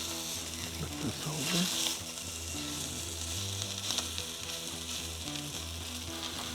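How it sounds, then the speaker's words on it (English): Cured pork belly fries in a pan like bacon, a steady close sizzle and crackle running throughout, with a low humming tone underneath and a few louder spatters. "we're just going to put this in here and just fry it up like we would normally with bacon"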